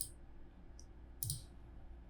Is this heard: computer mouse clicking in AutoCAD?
yes